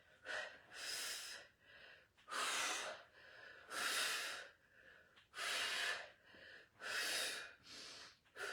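Six forceful, breathy exhales during a floor workout, each a short rushing puff of air, evenly spaced and close up with quiet gaps between them.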